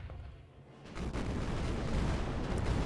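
Ship cannons fire a broadside in the pirate naval game Age of Pirates 2, heard as a quiet stretch and then a heavy rolling boom that swells and rumbles on loudly to the end.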